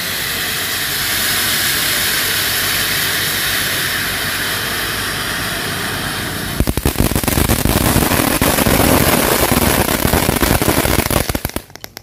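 At a Ramadan celebration, a long hissing whoosh gives way to a dense, rapid crackle of firecrackers exploding, loud and close, ending in a few scattered pops.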